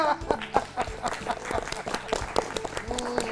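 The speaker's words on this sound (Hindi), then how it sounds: "जोरदार तालियां।" Schoolchildren clap in a kids' kabaddi learning session, a ragged burst of hands with uneven loud slaps, mixed with the children's voices and an adult talking over it.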